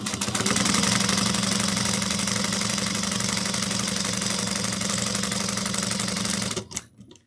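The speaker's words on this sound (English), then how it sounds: "We're going to sew 1/8 of an inch down both sides." Sewing machine stitching the side seams of a crossbody bag, a loud, steady, fast mechanical whir that runs without pause, then stops abruptly near the end.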